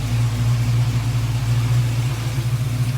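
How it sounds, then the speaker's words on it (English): An LS3 416 stroker V8 idling in a 1981 Turbo Trans Am, a deep, steady burbling rumble with a lumpy low pulse, close and loud, unbroken throughout with no speech. "There's the beautiful LS3 416 stroker motor humming away."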